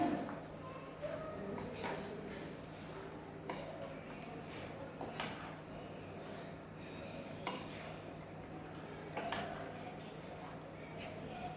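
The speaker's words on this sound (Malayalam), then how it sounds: "ഇനി നന്നായിട്ട് നമുക്ക് ഇളക്കി കൊടുക്കാം കേട്ടോ" Chicken masala being stirred in a pot for a kappa chicken supper, faint repeated scraping and clinking strokes over a low steady hum.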